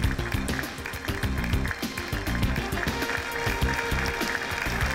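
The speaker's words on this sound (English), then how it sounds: "Let's welcome, sir, with a big round of applause" An awards-ceremony audience claps for a winner being welcomed on stage, a steady wash of fairly faint applause with a thumping beat of music or movement underneath and some talk mixed in.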